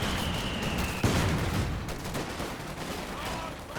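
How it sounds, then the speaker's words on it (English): Machine gun fire from the Company of Heroes 2 strategy game plays in a dense, continuous burst under other battle noise. A sharp jolt comes about a second in, and the rattling carries steadily to the end. "Machine gun on the run."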